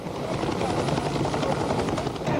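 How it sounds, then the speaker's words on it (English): Helicopters fly overhead during 1991 Desert Storm operations, giving a loud, continuous rotor and engine roar with rapid blade chop throughout, with no voices. "The helicopters flew in and out."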